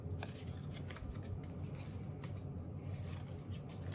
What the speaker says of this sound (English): Sometimes you have to turn it and pick your scissors up and cut it again.